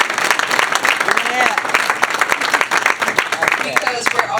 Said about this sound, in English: So round of applause for everybody here.